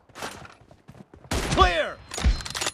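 Gunfire in a team deathmatch in the M24 room of a shooter game: a couple of loud, close bursts of shots with a short gap between them, heard alone.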